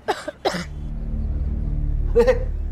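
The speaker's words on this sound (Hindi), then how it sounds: "भाभी जी को खांसी आई" A few short coughs near the start, then another throaty cough about two seconds in, over a low steady hum.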